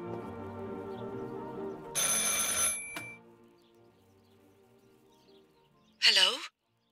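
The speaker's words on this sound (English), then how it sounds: "I should pick up the phone but remain silent." A telephone ringing in the game Martha is Dead: a bright, buzzing ring burst, then a second shorter ring after a pause, over quiet musical tones.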